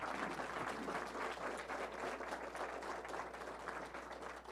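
An audience at a county attorney candidate town hall applauds the candidates: dense, steady clapping from a crowd, sustained throughout and heard from some distance at a fairly low level.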